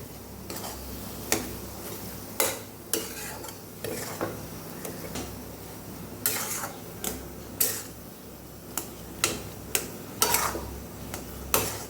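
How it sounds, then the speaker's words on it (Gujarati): A spoon stirs sheera with cashews, almonds, cardamom and nutmeg powder in a pan, giving repeated scraping taps at an uneven rhythm over a faint sizzling background, close and moderately loud with no talking. "બધું સરસ કાજુ બદામ અને એલચી જાયફળનો ભૂકો બધું સરસ આપણે આની અંદર મિક્સ કરી લેવાનું છે."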